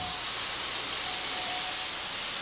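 Steady, loud hiss of escaping steam from a locomotive, continuous and close, with no talking.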